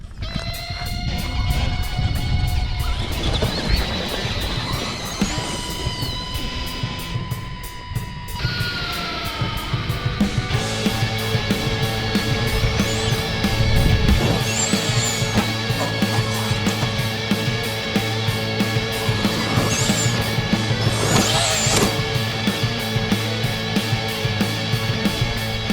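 A stock Axial SMT10 Gravedigger RC monster truck running on a 3S battery, its electric drivetrain giving a loud, whining, shifting tone that changes pitch as it drives, with a steady rumble underneath and no speech.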